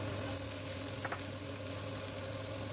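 Cooking oil heating in a home kitchen pan gives a faint, steady sizzle with a low background hum and one brief clink partway through.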